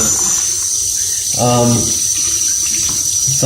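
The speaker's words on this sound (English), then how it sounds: "I always run the dolls under hot water to get rid of any remaining residue from the product or from the dirt itself" Hot water runs steadily from a tap as a doll is rinsed beneath it, a constant close hiss with a brief tonal gurgle midway as the stream strikes the doll.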